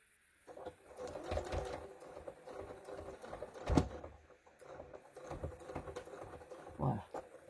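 A sewing machine stitches a rectangular zippered pillowcase in short, close bursts of rapid mechanical whirring, separated by brief pauses and small handling knocks, with no one talking.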